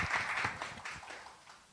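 An audience claps at a university anniversary lecture by invited overseas scholars, a brief patter of applause that is faint and distant and fades out within about two seconds.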